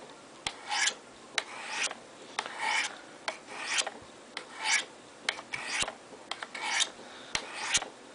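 A knife blade is drawn in rhythmic strokes down a fine stone on a Spyderco Sharpmaker, about one stroke per second. Each stroke is a short metallic rasp, often with a faint tick where the blade meets the stone, and no one speaks.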